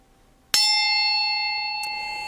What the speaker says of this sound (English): When each candidate's time is up, you'll hear an audio chime like this.